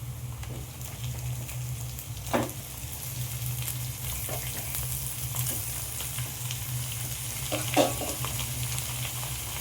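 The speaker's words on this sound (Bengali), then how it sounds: "পেঁয়াজটা আমার লাল করে ভাজা হয়ে গেছে, এবার আমি চিকেনটা এখানে দিয়ে দিচ্ছি।" Chicken pieces frying in a pan with onions already browned to a reddish colour, for chicken biryani: a steady close sizzle throughout with a few sharper crackling pops, no voices.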